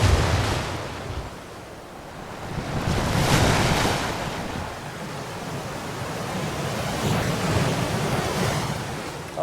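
Ocean waves surge and crash against a sea cliff at a deep water solo climbing spot, with loud continuous surf and gusting wind buffeting the microphone; the roar swells noticeably around the middle.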